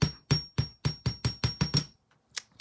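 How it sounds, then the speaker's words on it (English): A hammer taps a wire loop for a beaded bracelet in nine even, sharp metallic strikes close by, followed by a pause and a couple of faint clinks. "just hammer it just a bit to give it strength, to give the loop the strength."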